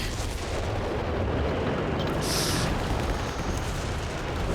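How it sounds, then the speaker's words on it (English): A long-range artillery barrage in the video game Company of Heroes 3: a dense, continuous rumble of distant shelling that holds at a steady loudness throughout, with no clear separate blasts. "Is that a long-range barrage?"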